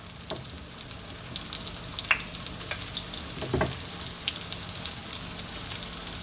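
Chicken spring rolls sizzle in a pan over medium heat, a constant soft crackle of frying oil broken by a few sharper pops and stirring clinks, with no talking.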